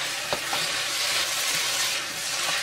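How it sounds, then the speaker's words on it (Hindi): Ginger garlic paste hitting hot onions in a pan and being mixed in, a dense continuous sizzle with occasional light spoon scrapes, close up and without any talking. "जिंजर गार्लिक पेस्ट 2 छोटे चम्मच, इसमें डाल दें और इसे एक बार हम मिला देंगे।"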